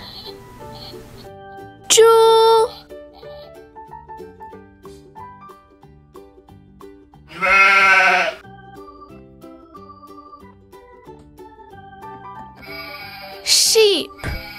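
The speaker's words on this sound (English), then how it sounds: "sheep" Sheep bleating in three loud separate calls about five seconds apart, each a wavering cry standing out over soft background music.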